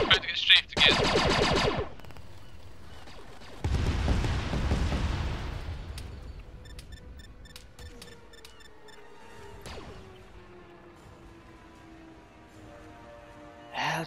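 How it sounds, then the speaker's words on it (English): Rapid machine-gun fire from an aircraft strafing run in a video game, with heavy bursts over roughly the first six seconds that fade to a quieter rumble, plus a short burst again at the end. "I think we're about to get strafed again"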